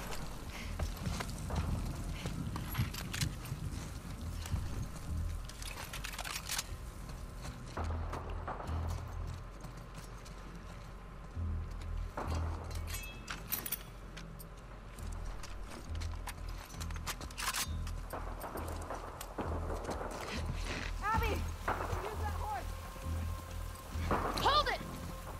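Horse hooves clip-clop steadily through rain in The Last of Us Part 2 video game, a rhythmic close plodding mixed with mechanical clicks and patter that runs under a voice talking.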